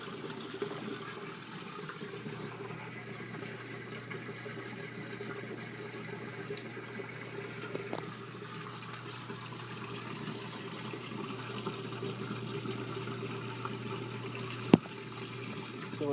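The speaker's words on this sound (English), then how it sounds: "So it's doing its rinse cycle still." An LG WT1101CW 5.0 cu. ft. HE top-load washer runs its rinse cycle, a quiet steady hum with faint water movement and occasional small clicks, no talking.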